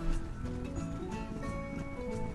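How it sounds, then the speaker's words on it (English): Horses galloping together in the Horse Club Adventures game: steady, quick hoofbeats at moderate volume over background game music. "We're just running our horses together."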